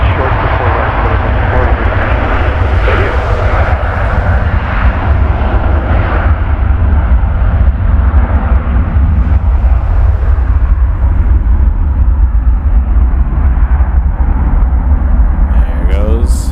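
A jet airliner takes off from a runway at Toronto Pearson Airport, a loud, sustained roar of engine thrust that rumbles heavily throughout, with an airband voice heard faintly under the noise.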